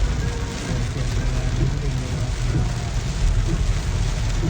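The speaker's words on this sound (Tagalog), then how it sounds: "Lumalakas na talaga yung ulan." Heavy rain from an approaching typhoon pours down steadily on Dinagat Island in a dense, constant hiss and patter with no breaks, loud and close.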